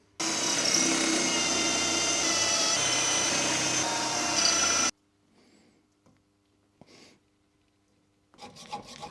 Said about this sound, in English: So first we're going to drill a hole.